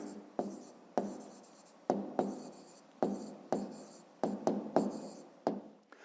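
Pen writing on paper during a fifth-grade maths exercise, a dozen or so sharp scratchy strokes at an uneven pace, each a quick tap that trails off into a rasp, close and alone.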